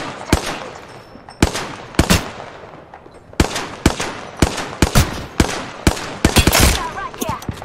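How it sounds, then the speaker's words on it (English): Sharp, loud gunshots in Apex Legends ring out in irregular bursts and single cracks across the whole stretch, with short gaps between volleys and some rapid automatic fire near the end. "Listen up, I'm getting shot at."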